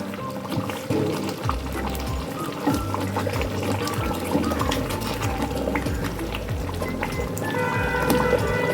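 Paneer cubes simmer in a covered pan over a medium gas flame, giving a steady close bubbling and hiss with small liquid pops throughout.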